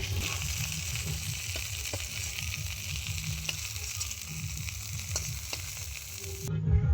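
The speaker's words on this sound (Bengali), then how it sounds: "টমেটোগুলো খুব ভালো করে ভেজে নিয়ে এসেছি এবার তুলে নেব" Tomatoes fry in hot oil with a bright, continuous sizzle and faint crackle, close and steady, with a brief clatter and shift near the end, no voices.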